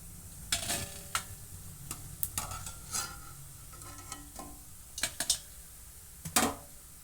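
Jamun dough balls frying in hot oil at home, a soft low bubbling sizzle with sporadic sharp clicks and taps of a utensil against the pan, quiet and close.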